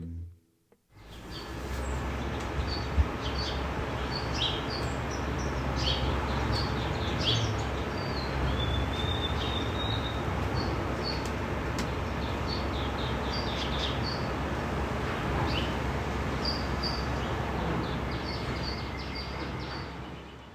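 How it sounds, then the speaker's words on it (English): Birds chirp and sing intermittently in the distance in spring over a low, steady rumble of a garbage truck engine idling and moving nearby. "You hear the birds, but you also hear the trash truck."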